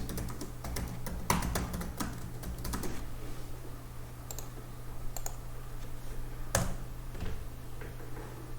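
Scattered keystrokes and clicks on a computer keyboard as a Git Bash command is typed, close and fairly quiet over a steady electrical hum, with uneven gaps between taps.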